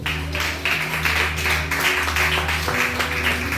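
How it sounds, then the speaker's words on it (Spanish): Church congregation clapping during a Spanish-language worship service, a steady wash of hands over sustained music tones underneath, continuous for a few seconds. "Dale un aplauso al Señor."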